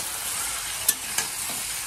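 Potato and pointed gourd sizzle steadily in hot oil, a constant hiss broken by two brief scraping stirs of a utensil.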